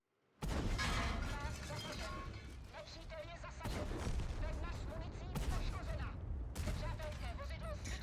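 Tank cannons boom in a World of Tanks-style armored battle game, with several sharp, loud blasts spaced a second or more apart over a continuous rumbling battle din.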